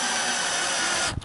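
Power drill driving screws into terrace boards outdoors, a loud continuous whir held for about a second before cutting off abruptly.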